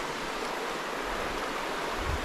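A trout river rushes steadily close by, a dense, unbroken broadband wash of flowing water with no pauses and no voices over it.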